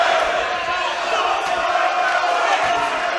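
A crowd at a live title boxing fight in Sheffield roars and cheers continuously, a steady loud wash of shouting voices.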